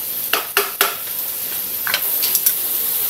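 A lid is set onto a cooking pot of pork liver with egg, three quick metallic clanks followed by a few lighter clinks, close and fairly loud over a quiet kitchen.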